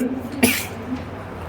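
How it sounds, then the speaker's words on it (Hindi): A single sharp cough bursts out indoors during a classroom lesson, brief and fairly close against a steady low background hum. "पता नहीं कैसे खांसी आ जाता है।"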